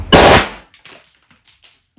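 A BLOW TR914 blank pistol fires on full auto, giving one loud, near, sharp blast followed by fainter clattering and rattling echoes that fade away.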